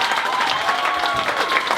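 Applause from a crowd for a young rock band at a student concert, a steady, full wash of clapping that stays even and loud throughout, with no voices over it.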